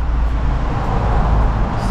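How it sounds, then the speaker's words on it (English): Constant low roadway rumble from traffic on a main road, a broad steady wash of engine and tyre noise without distinct individual vehicles. "Sorry about the noise, I live on a mainish road."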